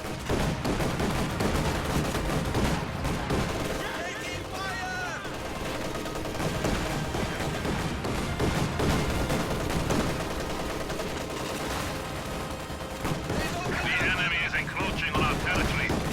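Machine gun fire and other combat sounds in a WWII real-time strategy game with MG-34s, T-34-85 tanks and Volksgrenadiers, a dense, continuous battle din under steady commentary talk.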